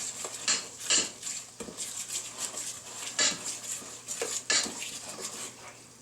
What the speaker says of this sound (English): Now we can start to mix up all the wet ingredients right into the cornmeal.